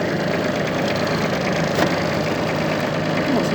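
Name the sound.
mini tractor engine running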